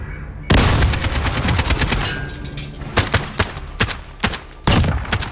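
Rapid automatic gunfire in a video game, loud and close, with sustained bursts that break into separate sharp shots and then resume, with no voices.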